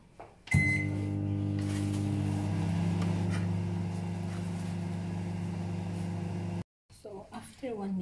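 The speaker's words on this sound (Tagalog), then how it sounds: "Yan, lagyan na natin sa microwave." A microwave oven heating an Oreo mug-cake batter starts with a click and runs with a loud, steady electrical hum for about six seconds, then cuts off abruptly, followed by a voice speaking.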